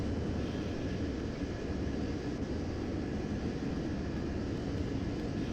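A fast jet's engine roars steadily in a FSX flight simulator, a loud, constant broadband rush with no breaks and no voices.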